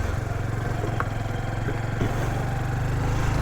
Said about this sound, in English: if you actually wind the engine out,